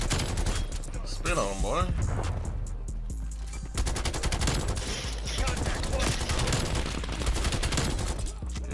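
Rapid automatic fire from a Krig 6 rifle in Black Ops Cold War, dense sustained bursts close and loud nearly throughout, with a voice talking over the shooting.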